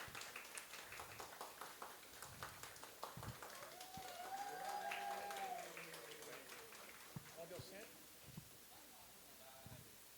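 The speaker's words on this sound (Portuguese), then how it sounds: "A salva de palmas para os nossos ídolos que chegaram por aqui." Audience applause welcoming a band at a talk-show stage, faint scattered clapping that rises briefly in the middle, with some quiet voices over it.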